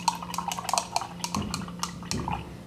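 Watercolor paintbrush swished and rinsed in a water jar, rapid light clinks and tinkling splashes in quick succession, close and fairly quiet over a low steady hum.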